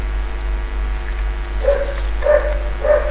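A dog barks inside a house in three short bursts over a steady low electrical hum. It sounds fairly close and loud, with no talking.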